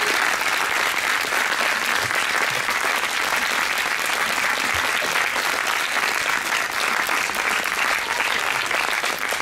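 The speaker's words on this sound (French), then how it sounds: "Je vous demande de les accueillir dans un tonnerre d'applaudissements" An audience applauds loudly and continuously, a dense, steady wall of clapping that never lets up.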